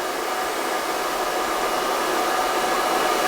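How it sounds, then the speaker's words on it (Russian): A hair dryer is held right at the hair roots with no gap while colouring hair, giving a loud, steady, even rush of air that runs unbroken with no talking. "Поставили фен в корень, близко к корням, без расстояния, и включили."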